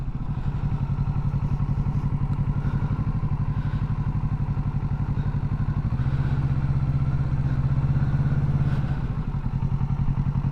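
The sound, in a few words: motorcycle pulling away with clutch and throttle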